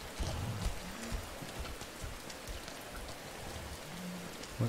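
Steady rain pours in the video game Rain, a dense continuous hiss of drops hitting surfaces that holds even throughout, with faint low thuds underneath and no voices.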